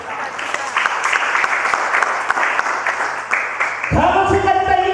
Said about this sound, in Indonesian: berikan tepuk tangan bagi anak kita